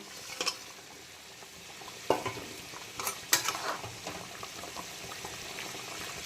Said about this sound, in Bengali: এখন আমি ভেজে রাখা তপসে মাছগুলোকে দিয়ে দিচ্ছি ঝোলের মধ্যে